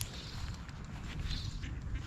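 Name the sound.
ducks and geese quacking at a pond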